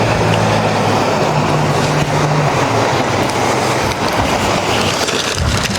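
A small passenger boat heads away across the sea off Handa island in Scotland, a low motor drone mixed with loud wind buffeting and water noise, fairly close and continuous.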